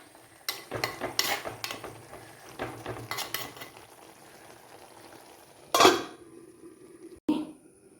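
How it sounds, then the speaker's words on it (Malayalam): Avial vegetables with tomato get stirred in a pan: a run of scraping, clinking utensil strokes, then a louder clatter near the end, heard close with no voices. "നമുക്കൊന്നോടെ ഇളക്കിയിട്ട് കൊടുക്കാം."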